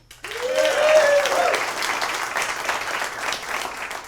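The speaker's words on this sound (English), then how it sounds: "Another round of applause to Cash." A studio audience at a comedy show applauds, with loud, dense clapping that starts abruptly and holds steady before slowly thinning out.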